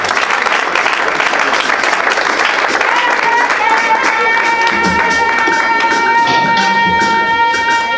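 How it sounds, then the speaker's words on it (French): Church congregation clapping hands for the Lord during a Sunday service, steady dense applause filling the room throughout, with faint voices and musical tones rising beneath it. "Let's clap our hands for the Lord."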